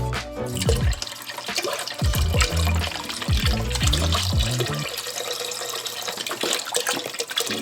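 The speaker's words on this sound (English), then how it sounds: "just take one of them and fill them up twice with water to add to the broth." Water is poured into a pot of chicken broth, a close, steady gurgle and splash with irregular glugs that eases into a softer continuous trickle.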